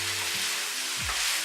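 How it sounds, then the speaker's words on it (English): Celery, peppers, spring onions and garlic sizzle steadily in a pan while being stirred, with a continuous, fairly loud frying hiss and a couple of brief tonal sweeps. "the celery, the peppers, the spring onions, and the garlic. Give it a little stir."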